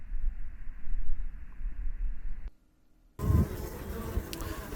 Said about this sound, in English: Guard bees on the landing board, that's great news.